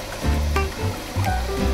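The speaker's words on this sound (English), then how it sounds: "Flowing water fills the trough." Water from a small LEGO Technic watering system with ducts from a tank pours steadily into a farm trough, a continuous close rushing and splashing with a few brief tonal clicks over it.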